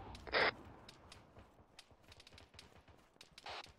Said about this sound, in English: A lot of contact, a lot of shots being fired to our east.